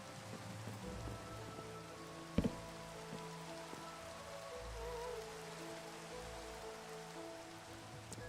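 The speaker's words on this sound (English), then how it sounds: "Ooh, it's raining." Steady rain falls in a video game, a soft even patter and hiss at low volume, broken once by a brief sharp click.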